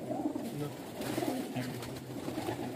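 Breeder pigeons coo in low, repeated rolling calls, close and steady throughout, with a voice talking over them.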